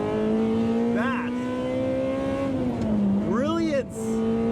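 A high-revving 1995 Ferrari F355 Berlinetta V8 with gated manual climbs and falls in pitch, with sharp rising and dropping sweeps of gears as it accelerates close by.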